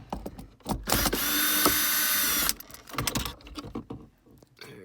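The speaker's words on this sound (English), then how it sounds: "I got my driver out here, so we're just going to remove these 4 screws" A power driver backs out rear-view mirror screws in an Acura MDX with a sustained loud whir of about a second and a half. Softer clicks and handling noises come before and after it.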